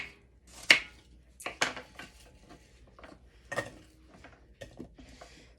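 A knife slices apples into chunks for an apple crisp, giving a few sharp, close cutting knocks at irregular intervals with quieter board taps between, and no talking.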